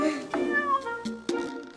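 A cat meows several times in close succession, clear and near, with short gaps between the calls and a little background noise.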